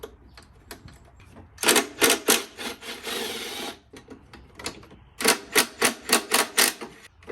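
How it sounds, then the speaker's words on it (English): A half-inch ratchet works loose an 8mm throttle body bolt on a New Edge Mustang GT, giving close, sharp bursts of rapid clicking with a short pause between the two runs. "gotta use this 1/2 inch ratchet to take off this little 8mm"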